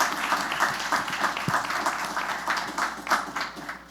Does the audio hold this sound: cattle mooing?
no